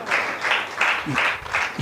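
A church congregation claps in unison in praise, with regular rhythmic beats about four per second and a brief low vocal sound partway through, steady and moderately near.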